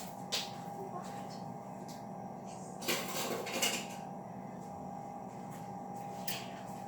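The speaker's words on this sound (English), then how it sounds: "we're going to stir the butter and the brown sugar until it's well coated" Butter and brown sugar stirred in a pot for a butterscotch cake, with a spoon scraping and clinking against the metal in a few short bursts over a low steady hum, fairly quiet and close.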